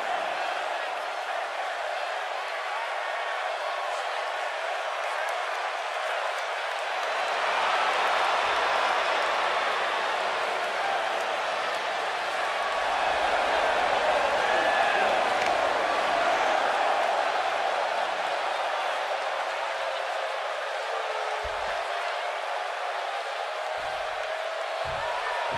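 A wrestling video game arena crowd roars continuously, swelling and fading in a broad wash of cheering beneath commentators talking.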